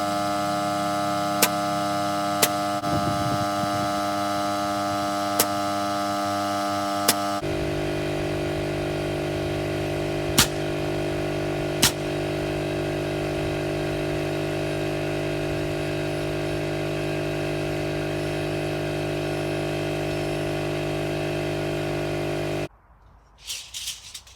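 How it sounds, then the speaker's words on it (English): Nail gun driving nails into the wooden top plate of a DIY shed pavilion, with several sharp, isolated shots spaced a few seconds apart over a steady loud compressor or motor drone that cuts off near the end. "It goes off easy with the nail gun"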